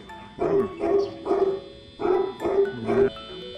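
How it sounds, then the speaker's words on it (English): A dressed-up dog voices six rhythmic barks, each a short yowling woof spaced about half a second apart, close and fairly loud with nothing else around. "A dog who's not liking how he's dressed up."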